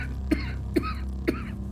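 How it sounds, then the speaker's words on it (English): Three wet, hacking coughs from one person, close and loud, spaced about half a second apart over a steady low background hum. "If I still got this nasty cough tomorrow, which I imagine I will"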